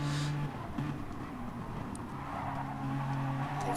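Race cars in an All Japan Championship round at Suzuka brake hard with oversteer, a steady engine drone with tire squeal and skidding noise running throughout, fairly loud with no talk over it.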